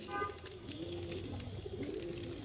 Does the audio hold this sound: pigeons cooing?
yes